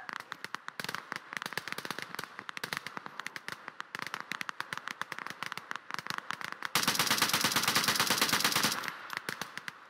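Machine gun fire from Operation: Harsh Doorstop rattles in rapid, sustained bursts of sharp reports, loud and close. Near the end a denser, continuous roar of fire surges, then the bursts resume.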